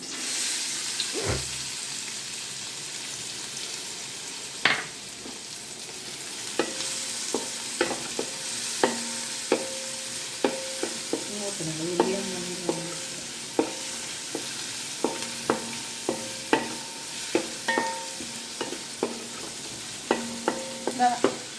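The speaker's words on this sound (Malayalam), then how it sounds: "എണ്ണ ചൂടായി ഉള്ളി ഇട്ട് കൊടുക്കാം." Onion sizzles in hot oil in a pan while a spatula taps and scrapes in a steady rhythm, a near, even frying hiss with regular clinks throughout and no one speaking.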